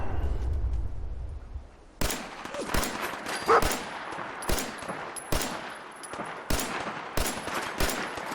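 Sharp, close gunshots from Fallout 4 follow a quiet opening, spaced single and paired shots ringing out at irregular intervals with no talking.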